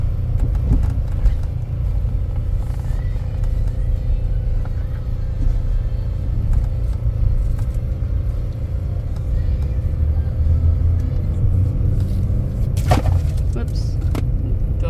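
A 2013 Buick Encore cruising on the highway gives a steady, even road and engine rumble with tire noise throughout, while a voice talks faintly now and then.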